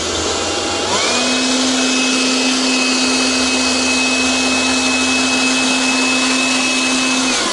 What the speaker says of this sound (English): but just with this blower